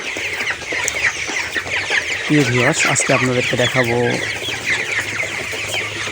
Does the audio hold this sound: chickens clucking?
yes